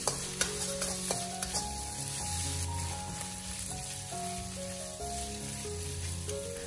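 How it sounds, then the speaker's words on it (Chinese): Minced pork is stir-fried in a wok with a metal spatula, breaking it up and rendering out its fat: a steady, bright sizzle with spatula scrapes and taps, and soft background music underneath. "我们先用锅铲将它炒散，将它炒至变色，把它炒出多余的油脂。"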